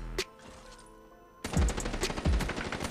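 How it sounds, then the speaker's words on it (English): Muffled, dull automatic gunfire from Black Ops 3 on the Xbox 360, heard in the game's outdoor play. One sharp shot comes first, then after a short pause a rapid, close burst of thudding rounds follows. "Why does this gun sound so muffled? It sounds like I'm shooting it inside at all times."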